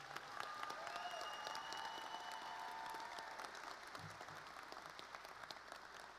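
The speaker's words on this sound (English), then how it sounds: "Can we give them a nice round of applause?" Audience applause fills a graduation ceremony at an alternative learning center, a steady, dense patter of many hands clapping from a crowd, sustained evenly throughout without any voices over it.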